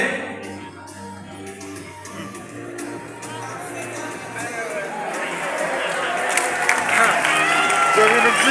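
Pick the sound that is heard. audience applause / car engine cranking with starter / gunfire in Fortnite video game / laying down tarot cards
audience applause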